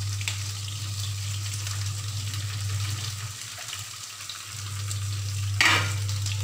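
Large potato slices frying in a pan make a steady, close sizzle beneath a constant low hum, with a brief louder crackle near the end and no voices.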